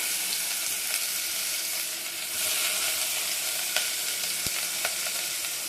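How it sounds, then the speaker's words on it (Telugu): Onions frying in ghee in a home kitchen pan, a steady close sizzle running throughout with a few sharp crackles and pops, no talking. "ఇదిగో ఆనియన్స్ అయితే వేస్తున్నాను"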